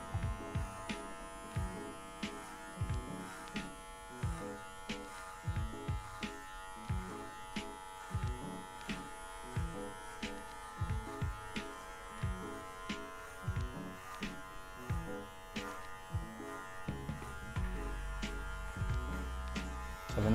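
An electric hair clipper fitted with a 1.5 guard buzzes steadily and close by as it cuts hair during a simple fade. The motor drone is continuous, with short rhythmic pulses on each pass and no talk.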